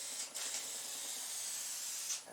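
Primer being spray painted onto the body of a 1988 Toyota SR5 truck: a steady, close, loud hiss that starts abruptly and holds evenly for about two seconds, no talking.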